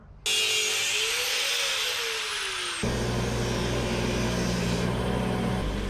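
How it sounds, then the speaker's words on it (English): A motor whines up to speed, then a harsh, abrasive scrubbing roar takes over as a metal part from a 1977 Datsun 620 is pressed against a spinning wire wheel. "Quick little cleanup on the wire wheel."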